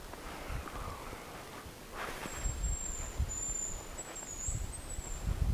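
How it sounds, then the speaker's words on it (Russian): A hazel grouse gives a thin, high, drawn-out whistling call in a foggy forest, faint and distant over soft rustling and footsteps. "Вот шумовой рябчик."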